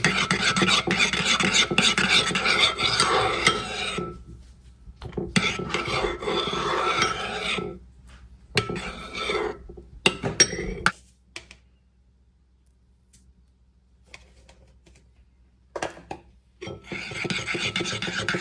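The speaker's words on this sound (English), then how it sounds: "Give this a mix now" Vegan mayo ingredients with nutritional yeast are mixed in a bowl, giving steady rasping, scraping strokes in bursts separated by short pauses, close and fairly loud, with no talk.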